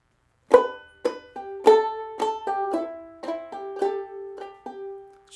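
A banjolele plucks a bright bluegrass melody from a Cornbread & Butterbeans lesson, a dozen or so crisp, ringing notes in an even, moderate rhythm, played alone and close.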